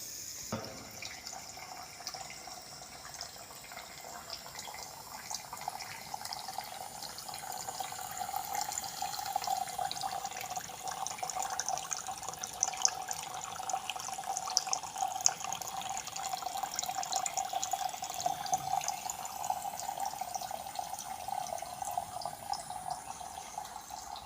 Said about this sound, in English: so the water pump is on.